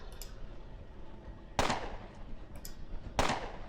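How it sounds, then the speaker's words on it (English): Gunfire in the video game Underrail: two sharp, loud shots spaced about a second and a half apart, with fainter clicks in between, over a low steady background hum. "let's go shooting spree"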